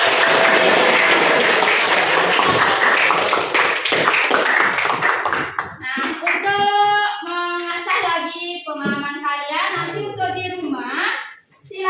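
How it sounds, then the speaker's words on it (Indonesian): A classroom of students claps in applause, dense and loud for about five seconds before fading, followed by a person speaking. "Oke, ya beri aplaus"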